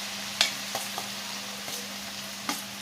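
Finely chopped green chillies and onions frying in a pan, a soft steady sizzle with a few light clacks of a stirring spoon, close and fairly quiet.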